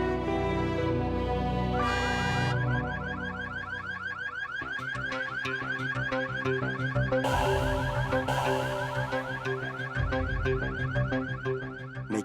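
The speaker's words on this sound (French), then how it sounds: "Mais qui a piégé l'alarme de la voiture?" Car alarm going off nearby, cycling loudly through a sequence of warbling, whooping and beeping siren patterns, with no talking.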